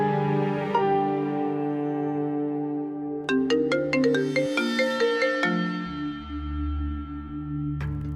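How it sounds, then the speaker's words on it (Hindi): A melodic phone ringtone plays alone, a sustained tune with bright repeated chiming notes rising and falling, loud and close throughout. "अनिल को फोन करती"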